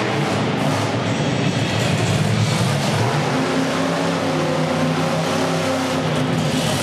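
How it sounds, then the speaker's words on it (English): A monster truck at a Youngstown, Ohio competition, its engine roaring loud and continuously as it strains for a donut without breaking loose, a dense mechanical drone with rising and falling revs. "Looks like he's been trying to get a donut in. The truck's just not quite breaking loose"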